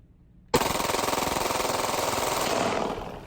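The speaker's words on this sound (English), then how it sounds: "The semi-automatic pistol confiscated by the Los Angeles Police Department performs like a machine gun, spewing out bullets non-stop." A Glock 17 pistol fitted with an illegal switch and a 50-round magazine fires fully automatic. It starts abruptly after a short quiet moment and rattles out a loud, rapid, continuous burst lasting nearly three seconds.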